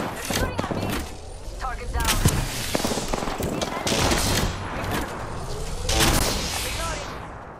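Rapid automatic gunfire bursts crackle in an Apex Legends match, loud and repeated in clusters, mixed with game announcer voice lines and effects.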